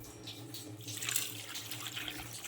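Water pours into a cooking pot holding salted, cut raw jackfruit pieces, a soft, steady splashing stream running for a couple of seconds at low volume.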